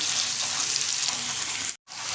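Onion, ginger and garlic paste frying in oil gives a steady, close sizzle that runs on without a break, then cuts out briefly near the end before coming back.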